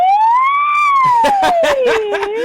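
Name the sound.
voice imitating an ambulance siren, singing siren exercise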